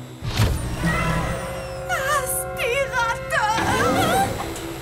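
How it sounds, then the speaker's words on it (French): A cartoon robot vacuum cleaner in a Polly Pocket episode powers up with a rising, warbling electronic motor whine in repeated swooping bursts, loud and close over a busy music-like background. "Aspirateur!"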